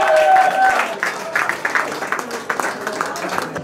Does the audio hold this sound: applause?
yes